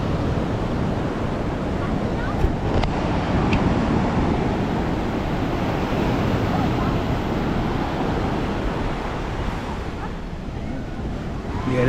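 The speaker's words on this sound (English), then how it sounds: "I could record this type of stuff and just listen to the waves before I go to sleep." Ocean waves washing onto the shore on a windy beach, a continuous broadband roar of surf and wind noise against the microphone, steady and fairly loud throughout.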